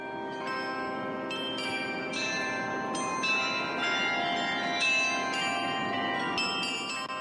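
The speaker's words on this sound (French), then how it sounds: "On va à Bruxelles avec ce concert à deux pas de la Grand Place, sur ces images de la RTBF, un concert de Carillon" Carillon bells ring out in a concert near the Grand Place in Brussels, with a run of clear, ringing struck notes that overlap and sustain in a continuous melodic stream, loud and resonant, with no talking.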